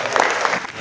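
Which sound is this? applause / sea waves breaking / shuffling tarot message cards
applause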